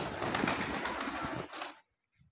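Pigeons coo after being fed grain on a fancy pigeon farm: a dense chorus of cooing with a faint flutter, close and moderately loud, then stopping abruptly.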